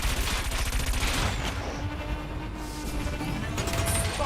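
Rapid, loud cannon fire from a racing craft in Wipeout 2048, a dense stream of punchy shots over a droning engine, with a short lull midway before the firing resumes.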